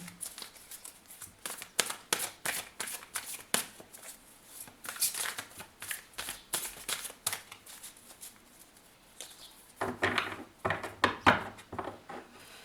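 A deck of tarot cards is shuffled close up in repeated rapid riffling bursts, a steady papery flutter with a short pause before a final flurry.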